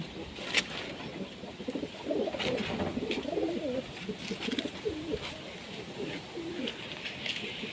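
A female Giasolli racing pigeon coos softly in a low, wavering series of murmurs that rise and fall for several seconds, fairly close but quiet, with faint background noise.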